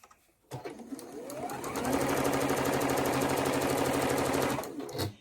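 Sewing machine stitching pieces of a sawtooth star quilt: a steady, close, rapid mechanical whirr that starts after a brief pause and runs evenly for several seconds before slowing to a stop.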